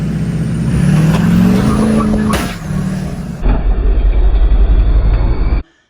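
An LMM Duramax diesel GM pickup truck launches 0 to 60, its engine loud and close, droning and rising in pitch as it pulls, then cutting off abruptly at the end.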